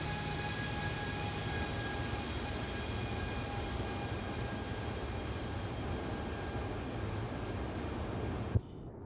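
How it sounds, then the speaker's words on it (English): Boeing 777 flyby in a flight simulator game, a steady broadband jet roar with high whining engine tones, holding level for several seconds before cutting off abruptly. "Do a quick flyby. Lovely sounds. The flyby sounds are brilliant."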